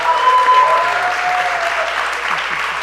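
A studio audience at a Star Wars Day celebration applauds the Sideshow team, a steady, dense round of clapping with faint crowd murmur beneath, continuing for about three seconds.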